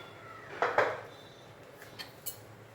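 Pots and utensils clattering in a home kitchen as cooking of hilsa and rohu fish begins: two quick close metallic knocks, then a few lighter scattered clinks and taps, all fairly faint in a quiet room.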